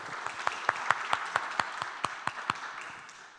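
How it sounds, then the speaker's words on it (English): A small audience at an art symposium gives scattered, fairly faint applause, distinct individual claps standing out over a soft wash of clapping that gradually fades away. "So give her a big round of applause."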